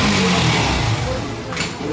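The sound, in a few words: Yamaha FZ V2 motorcycle engine started after fuel pump change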